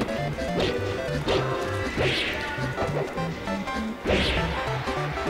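Heavy smash hits and whooshing strikes from a Super Smash Bros match between Marth and Ganondorf, landing in loud repeated impacts over a steady game music bed.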